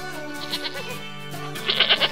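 A goat bleats in a few short, wavering cries, some thin and high, heard close over a steady background.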